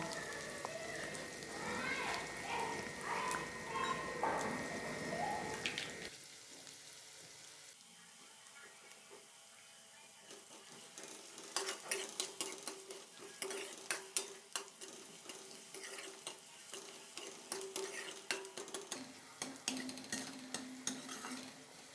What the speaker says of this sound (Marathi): चांगला लाल भाजून घ्यायचा कांदा